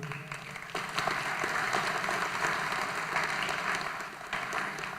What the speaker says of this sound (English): please stay standing and applaud for all the teachers and staff that you've had since you were in preschool